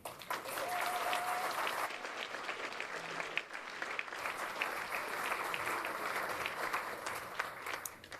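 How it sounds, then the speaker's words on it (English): Applause from the audience at a film festival awards ceremony, sustained even clapping that fills the hall and runs steadily for several seconds. "thank you all for the applause"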